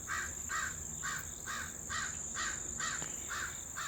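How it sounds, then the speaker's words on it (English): Crows caw outdoors in a steady repeating series, about eight loud harsh calls spaced roughly half a second apart, with a constant high hiss in the background. "The crows told on you. Thank you, crows."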